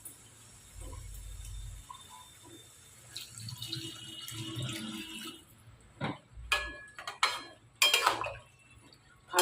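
Water poured into a pan of frying potatoes and ridge gourd, a soft pour and sizzle at first, then clattering utensils and scraping against the pan in sharp bursts.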